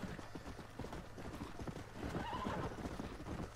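In the video game Red Dead Redemption, a horse whinnies while its hooves clip-clop in a steady rhythm, fairly quiet and without talk.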